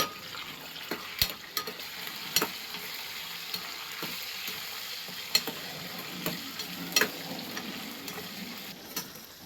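Curry leaves crackling in hot oil while a spoon stirs the pan, with soft sizzling throughout and scattered sharp ticks and clinks of the utensil against the metal, close and fairly quiet.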